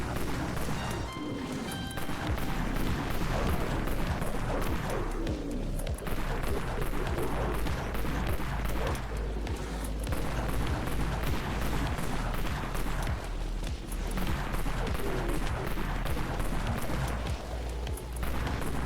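Dense, continuous gunfire and impacts from a pistol in the Dead Frontier survival game, a busy loud barrage of shots and crashes running without pause under game noise.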